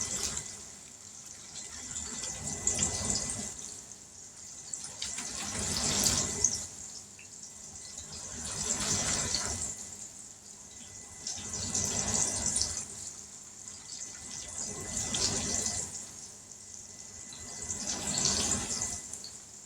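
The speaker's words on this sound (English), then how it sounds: "we're going to pour about half of this milk and try that first" Milk is poured into mac and cheese powder in several separate pours. Each swells into a liquid rush and then fades, in a slow, regular rhythm with no voices.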